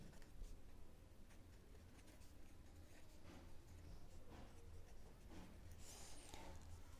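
Pen or marker writing out a math question on paper, a continuous soft scratching with short strokes and taps, close and fairly faint, with no talking.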